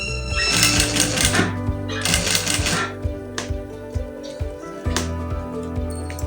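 A sewing machine stitches over gathered, ruffled fabric in loud, close bursts of rapid mechanical clatter, with brief pauses between runs.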